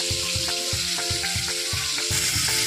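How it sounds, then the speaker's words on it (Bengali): Fish frying in hot oil gives a loud, steady sizzle close up, with a regular pulsing tick running beneath the constant hiss. "মাছগুলো ভাজা হচ্ছে, লাল লাল করে ভাজা হয়ে গেলে একটু পরে আমি তুলে নেবো এটাকে।"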